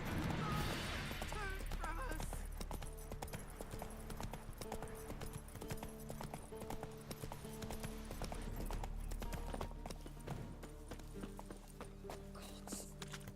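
Hooves of Geralt's horse Roach riding toward Velen in the video game The Witcher 3: a steady, close clip-clop gallop over soft background music, without talking.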